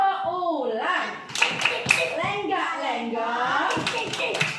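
A teacher leads the 'tepuk ular' snake clapping game with a child in a special-needs classroom, sharp rhythmic hand claps landing among sing-song chanted speech.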